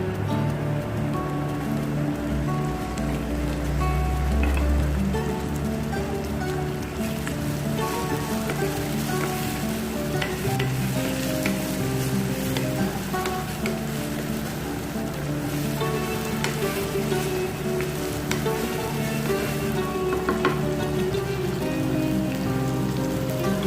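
Chopped medium tomatoes and onion fry in a pan for a chicken curry, giving a continuous soft crackle and sizzle, fairly quiet and even throughout, with low hum beneath and no talking.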